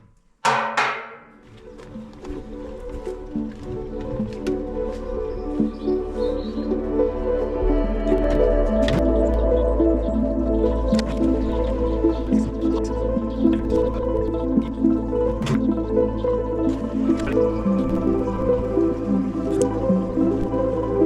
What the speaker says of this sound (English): Now we're about to attempt the extremely fun task of siphoning fuel.